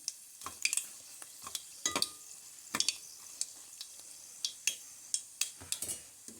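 Dried red chillies frying in hot oil with mustard seeds for a cauliflower pickle: sharp, irregular crackles and pops spaced through a soft sizzle, close and fairly quiet.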